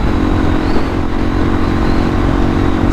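A Suzuki DRZ motorcycle rides at speed down an open road on a hot day, its engine droning steadily and close with a constant buzzing note and light clatter throughout.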